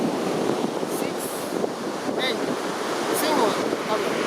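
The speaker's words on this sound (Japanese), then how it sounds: "本州に近づいてきてそのまま上に上がっていったうねりが今入っておりまして" Ocean surf from a typhoon swell breaks as a continuous loud wash of waves, steady and broad, with wind buffeting the microphone and faint voices underneath.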